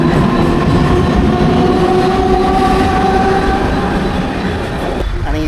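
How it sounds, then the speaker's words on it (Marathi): A train rumbles loudly and steadily at Govandi railway station in Mumbai, with a constant heavy roar and sustained tonal whine close by, and a voice briefly audible near the end. "तर गोवंडी रेल्वे स्टेशनला आत्ताच उतरलो"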